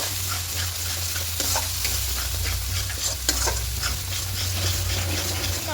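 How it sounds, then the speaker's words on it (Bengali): Ground coriander, turmeric, Kashmiri chilli and cumin powders being stirred and sautéed in hot oil for vegetarian chana masala, a steady close sizzle with scraping spatula strokes throughout. "এবার গুঁড়ো মশলা দেবো ধনিয়া গুঁড়ো হলুদ গুঁড়ো আর কাশ্মীরি লঙ্কার গুঁড়ো আর জিরে গুঁড়ো খুব ভালো করে কষিয়ে নেবো"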